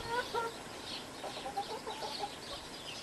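Pet hens in a hen house give soft, scattered clucks and murmurs, faint and muffled under a steady hiss of background noise.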